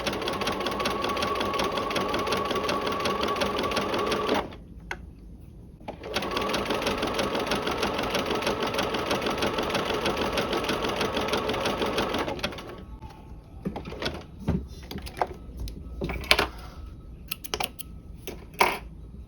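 A sewing machine runs a narrow roll hem seam with pearl cotton in two long, steady, close bursts separated by a short pause. Quieter fabric handling and small clicks follow once the stitching stops.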